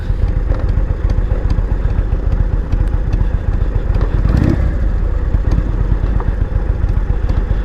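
Two Honda motorcycles ride down a dry, sandy gravel road, their engines chugging steadily and loudly close by, with tires crunching and clattering over loose stones throughout.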